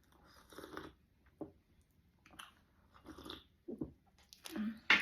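Close, quiet chewing and crunching from a mukbang of cheese-topped food, broken by occasional slurping sips of coffee, coming in separate bursts with soft pauses between them.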